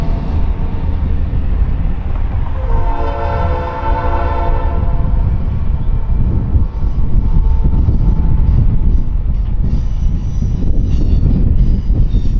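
A passenger train hauled by old EMD diesel locomotives rumbles past on a Colorado mountain line. A long horn blast sounds over the heavy, continuous engine drone and rolling wheel noise, loud and close.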